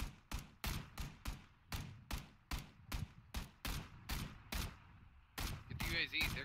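Repeated gunfire from a PUBG match, about a dozen evenly spaced loud shots fired in a steady semi-automatic rhythm, followed by a short pause and a burst of rustling movement at the end.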